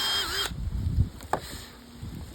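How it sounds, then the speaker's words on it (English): Power drill boring a small hole into an air-drying wood slab, a close, loud whirring burst that starts abruptly, then gives way to quieter handling knocks. "I'll drill just a little bit, kind of take some tension off."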